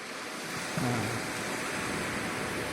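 Sea waves wash continuously at Pantai Paru, a fishing-village beach in Aceh, a steady surf rush with wind over the microphone and a brief soft tonal sound near the start.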